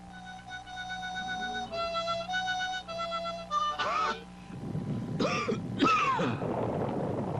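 A short musical jingle ends, then a person nearby gives a few harsh, rough cold coughs and clears their throat, on 1970s television.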